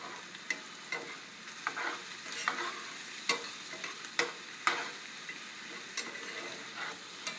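Stir-frying with gochujang and soy sauce: a continuous soft sizzle in a pan, punctuated by irregular sharp scrapes and clicks of the utensil stirring the food.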